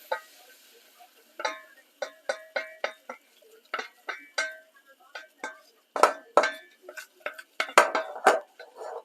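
Flour being stirred into bubbling butter in a pan for a basic white wine sauce, a spoon clinking and scraping in quick irregular taps against the metal, close and fairly loud with a faint bubbling underneath.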